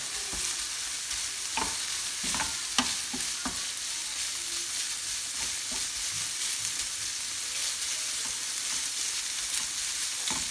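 A salmon, cream and garlic fettuccine sauce sizzles steadily in a pan while being stirred, with scattered sharp scrapes and clicks of the utensil against the pan throughout, no voices.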